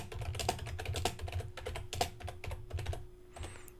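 Quick, crisp keystrokes on a computer keyboard while a WordPress blog post is composed, an irregular run of close clicks with brief pauses and no speech.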